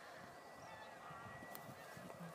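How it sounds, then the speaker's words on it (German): Geese flying back at sunset honk in a faint, distant flock over a steady outdoor background hiss, with scattered calls overlapping and no talking. "So, die Sonne geht unter und die Gänse kommen zurück."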